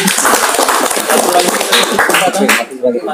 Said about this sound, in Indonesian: Tepuk tangan buat Pak Edi.